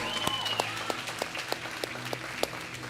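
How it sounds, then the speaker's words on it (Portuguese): Church congregation applauding the Lord, sustained clapping with distinct sharper claps standing out at regular intervals, moderately loud and mostly without talk. "Você pode aplaudir ao Senhor por isso?"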